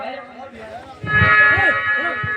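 A goat bleats in a wavering, voice-like cry, loud and close, with a shorter first call and then a stronger, longer one. It may be a person imitating the animal.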